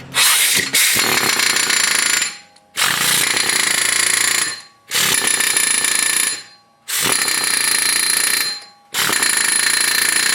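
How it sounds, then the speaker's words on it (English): A flat chisel pounded against a seized wheel bearing on a Subaru Forester: five long, loud bursts of rapid metallic hammering, each about two seconds long, separated by short pauses, close and continuous within each burst. "I'm just gonna use this flat chisel here just to pound it a little bit over here"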